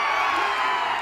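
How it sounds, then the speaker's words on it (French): A huge, packed crowd of spectators at the Kitzbühel ski race roars and cheers in a steady, loud wash of voices. "Une foule immense, compacte, bruyante, mais passionnée."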